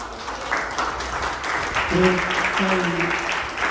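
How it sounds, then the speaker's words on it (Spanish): A church congregation claps together for a steady spell of applause, with voices and some tonal singing or music mixed in. "El aplauso al Señor."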